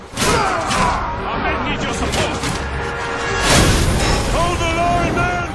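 A volley of fire in a poorly made video game lands as two broad, crashing bursts, one at the start and a louder one midway, with someone talking over the noise.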